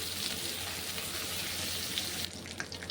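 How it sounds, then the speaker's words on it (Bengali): Onion paste frying in hot oil, cooked for a Bengali prawn and pointed gourd curry, gives a dense, continuous sizzle that stays steady and close, with a few sharper crackles near the end. "এখন আমি ওই তেলের মধ্যে দিয়ে দিচ্ছি দেখো পেস্ট করা পেঁয়াজ।"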